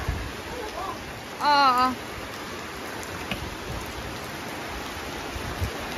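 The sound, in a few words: rain with thunder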